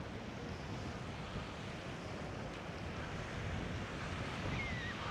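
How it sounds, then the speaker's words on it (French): Strong beach wind buffets the microphone in a continuous broadband roar, with surf washing underneath and no voices. "il y a beaucoup de vent"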